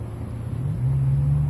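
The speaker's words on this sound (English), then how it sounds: "we got traffic, so you might hear a couple vehicles every once in a while" Road traffic passing on a Friday evening after rain, a low steady vehicle rumble that swells slightly toward the end, moderately distant with no talk.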